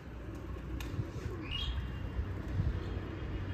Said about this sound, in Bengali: আর এই দেখুন কত পাখি এসছে, খুব ভালো লাগছে পাখিগুলো দেখে।